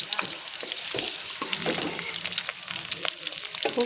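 Eggs frying in hot oil sizzle and crackle steadily as they are lifted out of the pan, with scattered scraping knocks over the continuous frying hiss.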